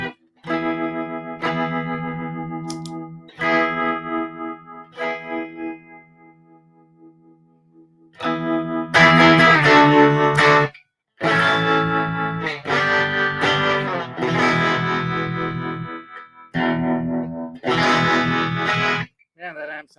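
Electric guitar played through a JAM Pedals Harmonious Monk tremolo with reverb into a VOX AC30 amp, a chord and single-note phrases pulsing with harmonic tremolo, loud and close, separated by brief gaps.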